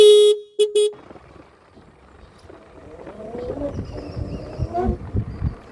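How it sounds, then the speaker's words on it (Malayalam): Horn of an Ather 450S electric scooter, one short loud beep and then two quick shorter toots close by, followed by quieter background rumble and faint voices. "ഒരു സിംഗിൾ ഹോണാണ് ഈ ഒരു വാഹനത്തിൽ വരുന്നത്"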